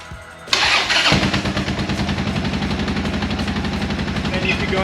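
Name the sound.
Buell motorcycle engine starting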